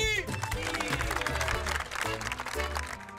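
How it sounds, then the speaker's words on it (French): A group of workers on a house-building site claps and cheers for the cook after a tartiflette meal, a steady, close burst of applause with voices and whoops throughout. "Applaudissements pour Jackie"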